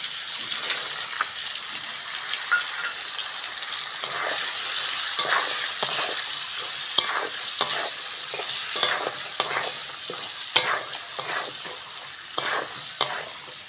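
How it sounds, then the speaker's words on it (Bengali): Spices and soaked chickpeas fry in a pan for a vegetarian banana-flower ghonto. A steady sizzle runs under repeated rhythmic scraping and stirring strokes, close and fairly loud, with no talking. "সঙ্গে মশলাগুলোও দিয়ে দেবো ছোলার মটর ভেজানোটাও দিয়ে দেবো"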